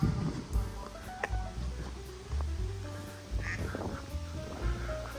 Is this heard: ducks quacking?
yes